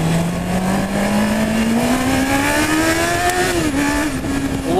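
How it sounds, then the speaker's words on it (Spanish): Honda CB 650 R motorcycle engine revving hard while riding, a loud, close whine climbing steadily in pitch before dipping slightly and holding, with no talk over it. "suena muy, muy rico este motor"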